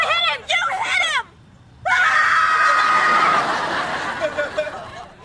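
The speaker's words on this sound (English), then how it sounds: "You guys are yelling really loud." Several people scream and shout loudly in a burst of overlapping yelling, broken by a brief quiet gap before a long, sustained scream with some laughter mixed in.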